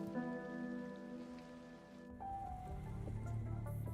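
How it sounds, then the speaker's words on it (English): Heavy rain pours steadily in Punishing: Gray Raven, a dense continuous wash layered with game music, close and full throughout. "How can it be raining this heavily?"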